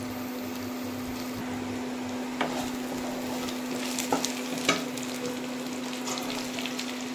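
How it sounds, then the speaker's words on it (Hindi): Chicken Manchurian fries in a pan with a continuous, moderate sizzle beneath a steady background hum, with a few spatula scrapes and taps as it is stirred. "ये 2 मिनट्स के लिए फ्राई करना है।"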